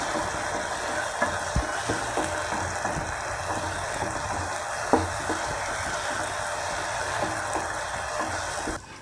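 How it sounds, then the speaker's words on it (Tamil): Cumin seeds fry and get stirred in a pan of oil for channa masala gravy, giving a steady, dense sizzle broken by a few sharp spoon knocks against the pan. "அதையும் சேர்த்துட்டு ஒரு 2 நிமிஷம் இதை நல்லா கிளறி விட்டுக்கலாம்"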